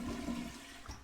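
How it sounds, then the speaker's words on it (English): A toilet flush in the video game Heading Out: a short burst of rushing, gurgling water that fades over about a second, with no voices. "Did I just hear a toilet flush in the background on this game?"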